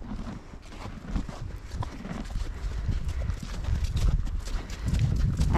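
A horse being led walks with steady clip-clopping hooves, close and fairly loud, in an uneven rhythm of footfalls that carries on throughout.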